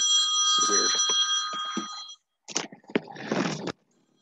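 A phone rings loudly with a bright, sustained electronic bell tone for about two seconds, then gives way to brief clattering and handling noises before cutting to silence.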